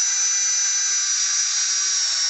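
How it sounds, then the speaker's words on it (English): Drill gun whirring steadily while assembling overhead power distribution modules, a continuous high-pitched motor whine held for a couple of seconds, close and without talk. "as you'll see here with the drill gun"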